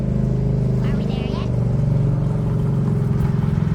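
A small Renault car fitted with a 670cc Predator engine drives along carrying 500 pounds of extra ballast, its low steady engine drone running loud and continuous throughout.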